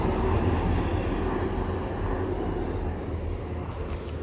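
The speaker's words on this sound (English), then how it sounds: "As here we have 158-890 with 159-007 bound for Clapham Junction from London Waterloo." Class 158 and 159 diesel units rumble past at Clapham Junction with a loud, steady drone and low rail noise that eases slightly toward the end.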